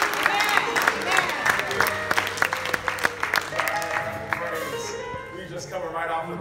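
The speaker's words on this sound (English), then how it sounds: "round of hand clap of praise" A round of hand clapping from a group, dense and fairly close, with voices talking and calling out over the applause throughout.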